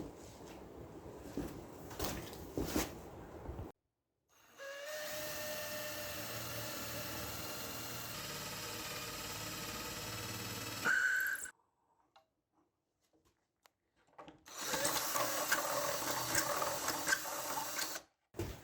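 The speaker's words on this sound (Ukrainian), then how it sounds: "І тепер будемо робити отвір під нашу замочну скважину." A door being drilled for a lock keyhole, a steady whining drill run lasting several seconds, then a pause and a second rougher drilling burst, with some handling knocks before.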